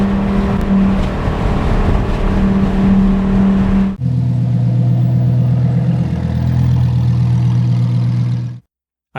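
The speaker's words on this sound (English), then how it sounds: "car's revving up a little bit. Love the sound of that Lamborghini." Lamborghini engine revving, a loud close mechanical roar with a sharp shift in pitch partway through, sustained and then cutting off abruptly near the end.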